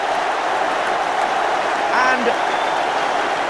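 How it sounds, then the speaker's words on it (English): Football stadium crowd applauding a goal in a 1994 Manchester United match, a broad, steady wash of clapping from all around the ground, with a commentator talking over it. "all round the ground, they applaud"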